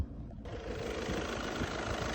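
A 2010 1.6-litre diesel car engine idles steadily with a low, even rumble and faint knocking texture, heard up close.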